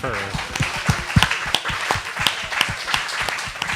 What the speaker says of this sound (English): can we give a round of applause of thanks to our servers for the night?